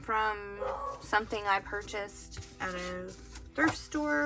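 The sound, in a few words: dogs barking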